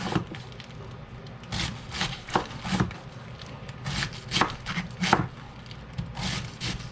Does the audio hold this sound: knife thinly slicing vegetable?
yes